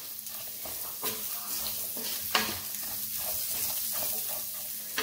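Sliced onions sizzle and crackle in hot oil for spicy chicken kondattam, a steady fry hiss broken by soft stirring scrapes in a quiet kitchen.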